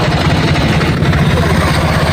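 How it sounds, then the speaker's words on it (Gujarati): A tractor engine idles close by with a steady, rumbling low-frequency drone and a throbbing pulse, running continuously and loud throughout with no break. "રોહિત જો આવે ટ્રેક્ટર લઈને."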